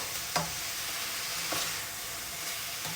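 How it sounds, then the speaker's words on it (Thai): Chicken offal with garlic, shallots and spring onions stir-frying in a pan, a soft steady sizzle with a few scraping strokes of the spatula, close and quiet with no talking. "ผัดเครื่องในไก่ลงไปเลยนะคะ"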